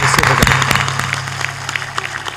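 An audience at a public gathering claps in a dense, crackling burst, with a few loud individual claps near the start before the sound thins slightly.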